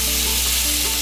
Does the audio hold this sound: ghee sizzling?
yes